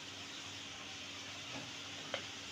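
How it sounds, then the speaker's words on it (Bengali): Spices for a rohu fish curry fry in oil with a faint, steady sizzle. A single light utensil tap sounds near the end, and the whole sizzle stays quiet and even throughout. "এখন আমি সব মশলাগুলোকে একটু কষিয়ে নিব যতক্ষণ পর্যন্ত না তেল বেরিয়ে আসে।"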